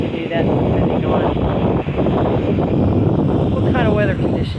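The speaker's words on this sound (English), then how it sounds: "It's pretty windy here today" Strong wind buffets the microphone outdoors beside a horse trailer being repaired, a constant loud broadband roar through the whole stretch with a brief dip midway.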